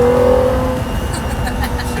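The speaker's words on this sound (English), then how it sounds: "You hear the induction noise." Gordon Murray Automotive T.50 engine running at about 3,500 RPM in fifth gear, its induction note a steady close drone inside the cabin, with a brief tonal whine early on and people talking over it.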